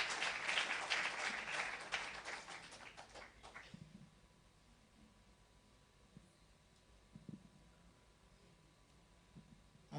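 A church congregation applauds after a testimony, with dense, loud clapping for about four seconds before it breaks off into a quiet room with only a few faint knocks.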